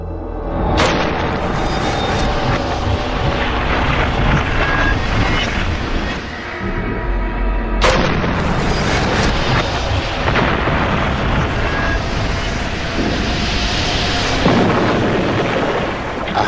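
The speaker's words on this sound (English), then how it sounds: "the team deliberately rupture the model" Pressurised model aircraft fuselage deliberately ruptured inside a pressure chamber, heard as two huge explosive booms followed by sustained roaring rumble that fills the space, loud and close.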